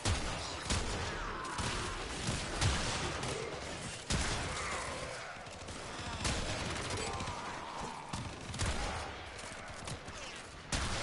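Heavy shotgun blasts from gameplay in the video game Warframe, loud and repeated in irregular bursts over dense game noise, with a voice talking at times.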